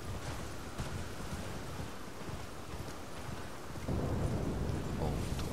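Lightning-charged sheep in Elden Ring Shadow of the Erdtree bring a stormy rumble of thunder under a dense rain-like wash that swells louder near the end, with no speech.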